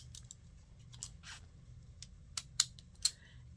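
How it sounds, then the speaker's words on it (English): Scissors snip the ends off craft material for a handmade pockets project, giving a few crisp, close cuts, the sharpest two near the end, over a low steady background hum with no talk. "Cut the ends off here."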